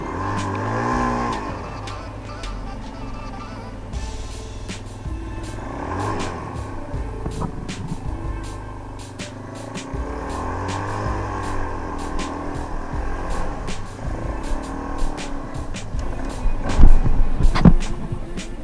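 A motorcycle climbs a rutted, narrow trail incline with little traction in the Toolangi forest, its engine revving and labouring unevenly throughout, growing louder with sharp bursts near the end, with no talk.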